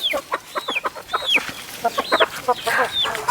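A native-breed hen clucks at close range, giving quick runs of sharp clucks and a few squawky, rising calls. No one speaks.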